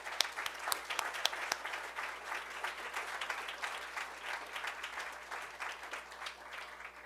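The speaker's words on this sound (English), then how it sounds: "I want to give him a round of applause for that." A crowd at an awards ceremony gives a round of applause, dense steady clapping with a few sharp nearby claps, fairly faint and fading slightly toward the end.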